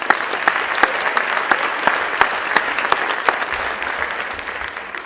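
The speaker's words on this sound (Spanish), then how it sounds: "La dejo con ella, fuerte el aplauso nuevamente." An audience at an autism-awareness conference claps for an occupational therapist, a steady round of applause with crisp individual claps popping out near the mic, fading slightly toward the end.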